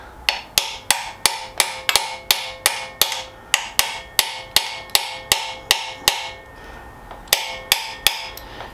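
A socket used as a hammer strikes bicycle wheel parts during spoke replacement on a Pinnacle bike, about twenty sharp metallic blows in a steady rhythm with a short pause near the end, close and loud with no talk.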